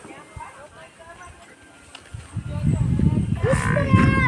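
Farm buffaloes and cows are heard near the speaker, with low animal sounds and shuffling that grow louder in the second half. Someone talks over them close to the microphone.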